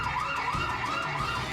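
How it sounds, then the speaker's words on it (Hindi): A siren-like alarm wails repeatedly at a steady volume with no talking, heard inside the ruins of Keradu Temple in Rajasthan, its rising and falling tone cycling several times. "बार बार अलार्म बजना।"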